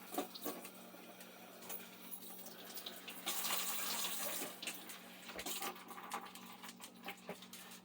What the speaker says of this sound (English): This is another one I'm going to rinse through just to make sure it all settles down.